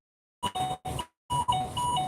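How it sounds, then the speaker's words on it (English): Ford Explorer warning chime sounding indoors in a short series of electronic beeps, two quick tones, a pause, then a longer stretch of repeated bright chimes, fairly quiet with no talk over it. "My stupid car beeps every 5-6 minutes,"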